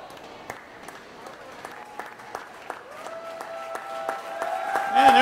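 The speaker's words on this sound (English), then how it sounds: "And there's a big round of applause for Alana." A crowd applauds at a swimming competition, scattered claps at first building into fuller, louder applause and cheering toward the end, with a voice over a speaker system partly audible underneath.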